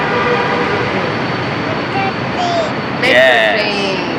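Metro train ride with steady rolling rumble and interior hum throughout, a brief higher tonal whine near the end, and people talking over it.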